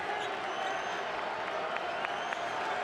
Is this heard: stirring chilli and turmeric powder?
no